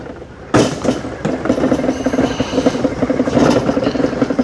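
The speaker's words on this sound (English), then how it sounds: "It's kind of a remote control mower at this point." A Hookii Neomow X Pro robot lawn mower driving under remote control gives a loud, rattling mechanical whir that starts abruptly and runs continuously with a rough, grinding texture close by.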